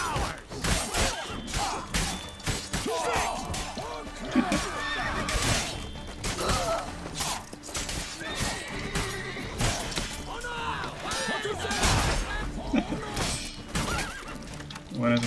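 A horse in The Witcher 3 neighs and whinnies amid combat, with hoof clops, thuds and crashes, while voices talk over the busy, loud mix.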